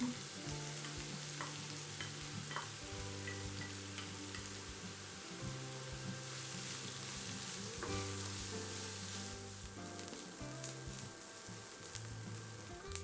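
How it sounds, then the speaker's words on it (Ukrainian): Onions sizzle steadily in a hot pan, a continuous crackling fry with faint clinks, no voices. "Першою обсмажуємо цибулю до прозорості."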